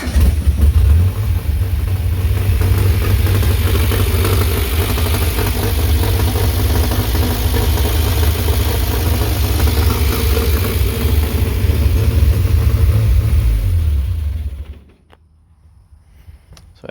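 A Nissan Hardbody engine swapped into a Pathfinder idles loudly and steadily with a deep rumble and an exhaust leak, running alone for about fifteen seconds before shutting off abruptly.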